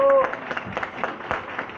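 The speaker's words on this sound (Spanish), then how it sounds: "¡Aplausos para ellos!" An audience applauds a fifth-year secondary school theatre class in a short burst of clapping, with voices and cheering mixed in.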